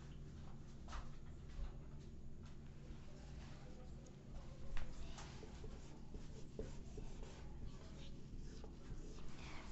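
Chalk or marker scratches and taps on a board during a nervous-system lesson, a soft scraping texture running steadily under low room noise.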